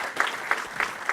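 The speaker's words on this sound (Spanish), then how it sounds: "Un aplauso para él, por favor." An audience at a Peruvian health and nutrition panel event applauds, a dense wash of many hands with a few louder peaks, brief and moderately loud with no talking.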